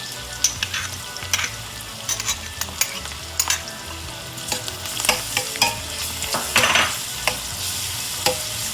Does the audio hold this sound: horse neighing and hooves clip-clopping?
no